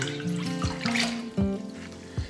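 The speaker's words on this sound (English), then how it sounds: "You need to fill this up with water." Tap water pours steadily into a bucket for a hydro-dipping craft, a continuous close rushing splash with a rising tonal fill and brief bumps as the container shifts.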